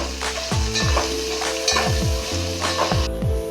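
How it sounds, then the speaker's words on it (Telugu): Tomatoes with curry leaves, mint and coriander frying in a pan, stirred with a utensil: steady close sizzle with repeated scraping sweeps every half second or so, no talking. "టమాటాలు కూడా వేసేస్తాం. ఒకసారి బాగా కలుపుకుందాం."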